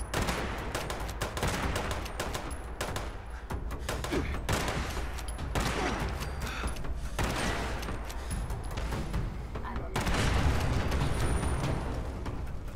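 Gunfire in a Fallout game as a robot shoots saw blades: dense, rapid bursts of shots and impacts in fast succession, loud and continuous with short gaps between volleys, no talk.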